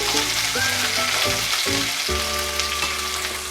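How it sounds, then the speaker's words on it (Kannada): Green chili, ginger, garlic, onion and cumin fry in a pan with a loud, continuous sizzle, while background music plays over it. "ಇದು ಚೆನ್ನಾಗಿ ಫ್ರೈ ಮಾಡ್ಕೊಳ್ಳೋಣ. ಈರುಳ್ಳಿ ನೋಡಿ ಕೆಂಪಾಗಿದೆ."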